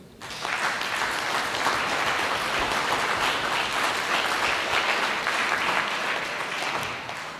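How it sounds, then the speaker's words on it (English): Steady applause fills a municipal state-of-the-municipality address as the audience honours the mayor, starting abruptly after a brief pause, holding as a dense, even roar of many hands for several seconds, then easing slightly. "Let's give the Honorable Mayor another round of applause"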